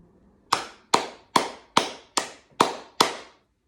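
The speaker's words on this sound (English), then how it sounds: "clap 7 times." Seven sharp hand claps come in a steady, even rhythm, close and alone with no talk between them.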